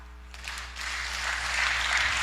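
A church congregation breaks into applause at a sermon. The clapping swells from a thin start into a steady, dense roar that builds and holds to the end, with no voices over it.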